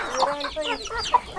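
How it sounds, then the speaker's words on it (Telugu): A chicken in a hill village clucks agitatedly while being chased, several rapid squawking clucks close by over barely two seconds, with faint voices in the background. "సూరిబాబు పట్టుకో, ఆ కోడి పట్టుకో, పెద్దది పట్టుకో."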